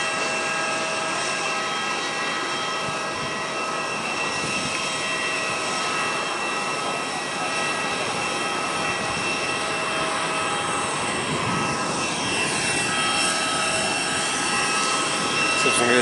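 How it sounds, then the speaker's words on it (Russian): Small AirAsia airplanes at Langkawi airport give off a continuous loud engine whine with steady tonal hum, and a rising sweep near the end. "Смотрим на маленькие самолетики."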